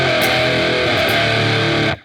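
A heavily distorted electric guitar power chord, played in a song part, rings loud and sustained for about two seconds before it is cut off abruptly.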